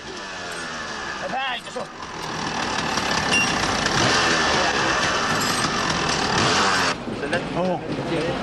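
A motorcycle engine being prepared for the Gilles Lalay Classic rally runs and revs up, a rough sustained drone with rising intensity, while people talk nearby over it.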